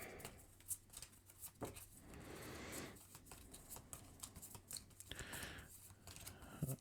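Environment cards from the Marvel Champions card game being shuffled by hand, a run of quick papery riffles and soft slaps close to the microphone, fairly quiet throughout.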